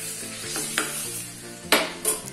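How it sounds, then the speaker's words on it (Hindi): Boiled potatoes and peas with turmeric fry in a pan. A steady sizzle runs throughout, and a few louder stirring scrapes break through it. "ये मटर डाल दे रही हूँ और इसे तीस पैंतीस सेकंड इसे इसमें भूनिए"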